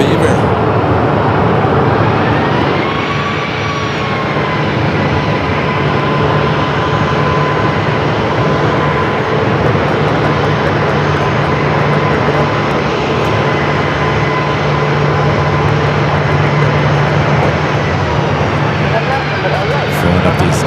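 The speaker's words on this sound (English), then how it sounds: "320 Neo up next for departure on the 25 at right" An Airbus A320neo departing runway 25 right at Phoenix Sky Harbor makes a loud, sustained jet engine roar with a rising whine throughout, while people talk over it.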